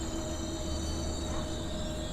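Rumble and steady tonal squeal of the Seven Hills SF Express braking as it pulls into Kadiri station, a continuous mechanical drone with whining brake tones from inside the train.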